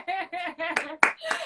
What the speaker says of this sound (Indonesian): Tepuk tangan cuma sendiri.